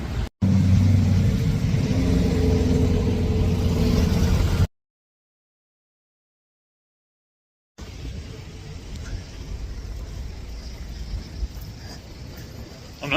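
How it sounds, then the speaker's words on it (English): Chevrolet Corvette engine rumbling loudly nearby with a revving surge, cutting out briefly before a steadier, quieter rumble returns. "Corvette."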